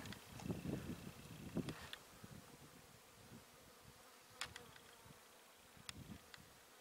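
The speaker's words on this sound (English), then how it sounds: "Looks like there's bees over there on that one." Faint buzzing of bees outdoors in the Arizona desert, a low hum drifting in and out with light rustling and breeze in the background.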